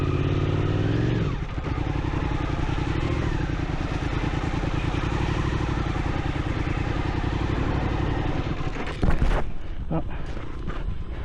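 Suzuki V-Strom motorcycle crawling at low speed during a balance training session, a steady close engine chug with a brief rise in throttle and a clattering bump near the end.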